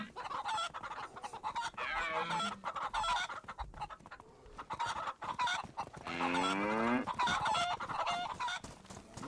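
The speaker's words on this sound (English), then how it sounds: "There's some chickens for you guys." Chickens cluck and squawk repeatedly in a hunting-style video game with domesticated animals and wildlife, the fowl calls close, loud and overlapping throughout with a drawn-out squawk midway.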